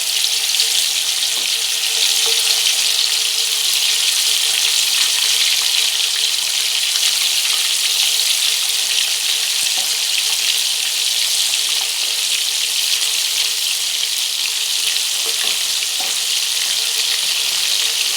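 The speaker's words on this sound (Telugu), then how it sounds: "చేప ముక్కలు వేసుకుందాం. మీడియం ఫ్లేమ్లోనే వేయించుకుందాం" Pieces of koramenu fish frying over a medium flame, a steady, loud, close sizzle with crackling that holds evenly throughout, with no talk over it.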